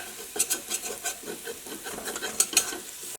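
Tomatoes stirred with a wooden spoon in a sizzling pan for vegetable biryani: close, rhythmic scraping strokes over a soft fry, with no talking.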